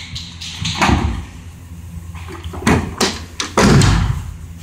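Doors of a 2011 Ford E-250 cargo van being opened and shut, several loud close thumps and metallic slams with handling clatter between them.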